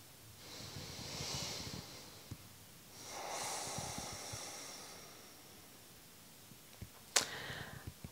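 Slow, controlled pranayama breathwork in the Sama Vritti style: two long, airy breaths drawn close to the mic, each swelling and fading over about two seconds, followed by a short sharp sniff.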